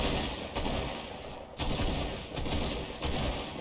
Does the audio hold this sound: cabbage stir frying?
no